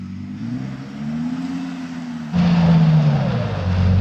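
A rear-wheel-drive Audi R8, stuck on a snowy slope, drones at a steady rev that swells and falls as it strains. A louder surge of revving then holds loud to the end, with no voices over it.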